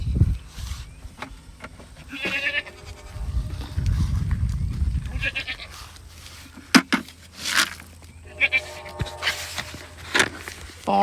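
Goats on a farm bleat repeatedly while being fed, with several loud, wavering calls over steady low rustling and a few footsteps, all fairly close.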